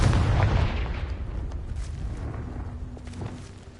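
A Confringo blasting spell goes off in Hogwarts Legacy as a loud, rumbling explosion with a heavy low burst at the start, followed by a decaying crackle and debris tail.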